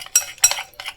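Lemon juice being stirred into a spiced oil marinade for tandoori paneer tikka, with three short bursts of a spoon scraping and clinking against the bowl, close and clear.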